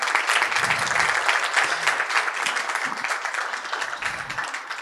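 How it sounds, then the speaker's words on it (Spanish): Steady, dense applause from a seated audience thanking the speakers at a talk on innovation with native wood, many hands clapping continuously and loudly before gradually thinning toward the end. "darle un aplauso a nuestros expositores"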